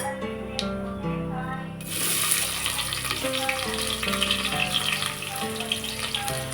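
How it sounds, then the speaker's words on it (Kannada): Onions hit hot oil with fennel seeds and a bay leaf for soya chunks pulao, the sizzle jumping up suddenly and then crackling steadily and loudly up close, with faint background tones beneath. "ಈಗ ಇದಕ್ಕೆ ಈರುಳ್ಳಿ ಹಾಕೋತಾ ಇದ್ದೀನಿ"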